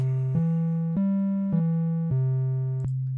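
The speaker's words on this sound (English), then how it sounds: "And then a triangle wave." A steady triangle-wave tone from a Thor synthesizer oscillator in Reason 9.1, with soft, hollow overtones, stepping between a few low pitches with clicks at each change, alone and fairly loud.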